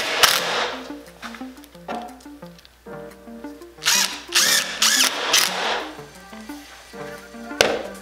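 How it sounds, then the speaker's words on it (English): A power drill drives screws into an epoxy table mold in a workshop, with several short whirring bursts that rise and fall in pitch, separated by brief pauses, loud and close. "Now I'm just putting 5 screws in."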